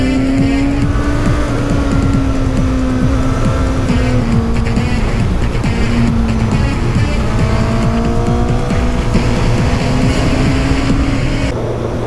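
A 2017 Suzuki GSX-S 750 motorcycle under way, its engine loud and continuous, rising and falling in pitch through repeated revs and gear changes with constant road and wind noise.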